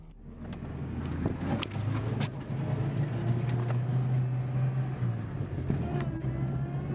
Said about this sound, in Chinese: 汽车从一处低洼地刚冲出来，准备翻越一个小陡坡时，轮胎就陷进了细沙当中